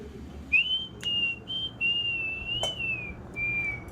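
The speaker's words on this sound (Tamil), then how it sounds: "இப்போ ஒரு விசில் சவுண்டு கேட்டுச்சு பார்த்தீங்களா அது வேறு யாரும் இல்லை என்னோட ஹஸ்பண்ட் தான்" A man whistles a song nearby in a home kitchen, clear sustained tones rising and falling in short melodic phrases with brief gaps, loud and alone over a faint background hum, with a couple of sharp clicks.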